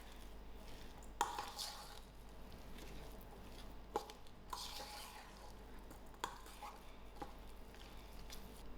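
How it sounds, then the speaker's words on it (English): Chicken mince mixed with egg in a bowl gives soft, quiet squelching and stirring, broken by a few sharp clinks of a utensil against the dish, with no talking. "I'm going to add in my egg to it. I'm going to give this a nice"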